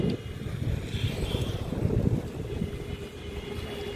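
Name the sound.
large ship Ocean Glory passing on the river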